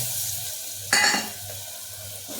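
Masala paste fries in oil for zanzanit mutton, a low steady sizzle broken by a sudden loud hissing burst as it is stirred, then settling back down.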